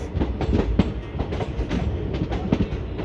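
The Delhi–Jodhpur Ashram Mandore superfast express runs on the main line, its wheels beating a rhythmic clickety-clack over rail joints, loud and close with a steady rumble beneath.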